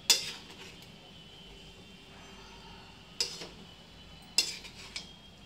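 Vegetables for masala pulao are stirred in a pot, with a few quiet metal clinks and scrapes of a spoon against the pot spaced out over a soft background.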